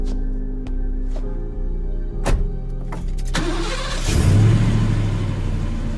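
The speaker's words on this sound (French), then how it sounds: "Je parle du moteur, je voudrais que tu le mettes en route." A car engine cranks with several short starter bursts and clicks, then catches and settles into a steady running hum with a low drone, fairly close and loud.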